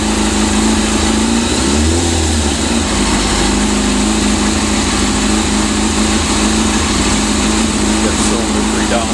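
A Yamaha R6 motorcycle engine runs loud and close during a carburetor sync, holding a buzzing idle with a short rev rising and falling near the start, while voices talk faintly under the engine.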